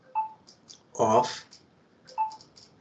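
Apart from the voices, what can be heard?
mobile phone sounding during a talk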